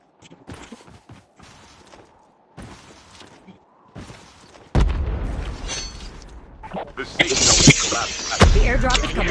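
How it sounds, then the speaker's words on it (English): Bomb explosions from above in Call of Duty Mobile: a few light bursts give way to heavy, rumbling booms that swell and grow louder toward the end, with players talking over the noise. "Ada bomb bomb di atas nih."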